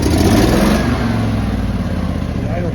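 A Honda EB 11000 generator running on propane starts up, its engine revving loud and close before settling toward a steady idle hum.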